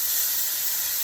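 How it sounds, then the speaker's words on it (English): Steak searing in a saute pan with butter and canola oil, giving a steady, loud, hissing sizzle with no pauses over about a second. "Meanwhile, we saute up our steak"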